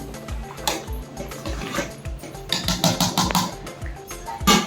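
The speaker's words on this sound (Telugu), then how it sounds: "దీనిలో ఉన్న వాటర్ అన్ని తీసేసుకుందాము" Water splashes and pours in uneven bursts as cooking water is drained from a pot of parboiled rice, close by with no talking.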